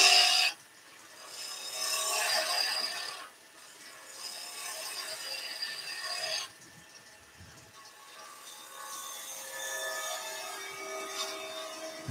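A skew chisel cuts into spinning wood on a lathe while shaping table skittles, giving a close scraping, rasping sound in several long passes separated by brief pauses.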